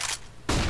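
A flashbang grenade in the video game map de_Mirage: a dull lead-in, then an abrupt, loud broadband burst that keeps roaring to the end.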